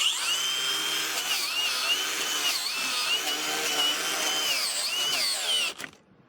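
A brushless angle grinder whines loudly and steadily under heavy load, its pitch sagging as it bogs down, then abruptly cuts out near the end, leaving quiet.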